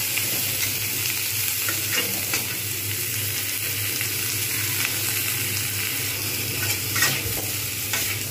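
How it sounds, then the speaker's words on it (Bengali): Bhetki fish frying in a little oil over medium heat, a steady close sizzle with soft crackles and occasional light scrapes, no talking. "তারপরে আমি কিন্তু আঁচ মিডিয়াম করে এটাকে ভালোভাবে ভাজবো।"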